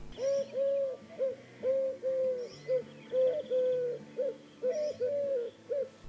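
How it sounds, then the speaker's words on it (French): A Eurasian collared dove sings a repeated three-note cooing phrase, the phrases spaced in a steady rhythm, clear and fairly close over quiet background. "La tourterelle turque, elle, fait ce chant."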